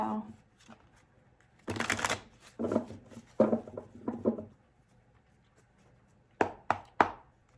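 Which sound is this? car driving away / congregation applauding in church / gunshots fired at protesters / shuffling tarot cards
shuffling tarot cards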